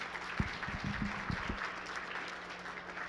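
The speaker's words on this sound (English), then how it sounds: "So one more hand of applause for our outgoing." Conference audience at a lunch plenary clapping for outgoing federal partners, a faint scattered round of applause that thins out and fades after a couple of seconds.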